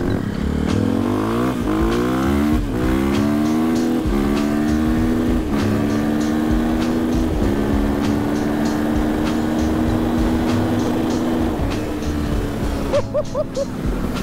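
KTM 500 EXC-F single-cylinder motorcycle accelerating hard through several gears, each pitch climb toward the rev limiter cut by a quick shift dip, loud and close, ending with a few short throttle blips.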